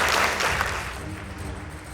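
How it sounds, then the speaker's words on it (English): A school audience at a debate between two high school teams breaks into applause. The clapping starts fairly strong and fades quickly into a quiet room. "Let's clap for them."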